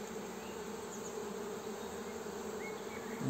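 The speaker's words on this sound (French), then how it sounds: "on peut observer la douceur des abeilles" Buckfast honeybees buzz around an open hive, a dense, steady hum of many bees close by with occasional individual wingbeats passing nearer, no voices.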